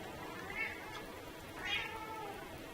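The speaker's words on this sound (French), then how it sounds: "chat derrière qui fait ses coups." A cat meows twice in the background, each call short and fairly faint, over a steady noisy room hum.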